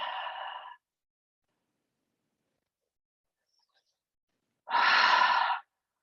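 Two slow, breathy exhales during a low back stretch, close and clear, separated by a long stretch of near silence.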